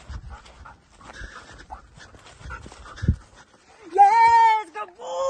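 A search dog that has tracked an intruder in a house pants in quick, close breaths, then lets out a high, wavering whimper near the end.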